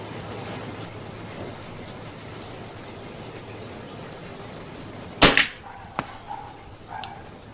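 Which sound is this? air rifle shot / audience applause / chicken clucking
air rifle shot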